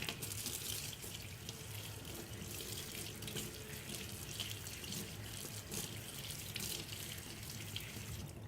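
Water runs steadily from a tap while aloe vera leaves are rinsed beneath it, a constant close splashing hiss with no voices.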